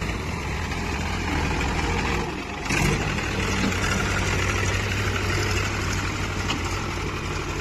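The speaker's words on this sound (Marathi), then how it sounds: "घेत होते पंपापाशी रिव्हर्स ट्रॅक्टर" A tractor towing a trolley that carries a water drum reverses near a pump on a cotton farm, its engine a low steady idle rumble with a brief dip and bump partway through.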